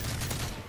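Rapid gunfire in the Call of Duty Modern Warfare 3 video game, a brief dense burst of shots that is loud and continuous for under a second.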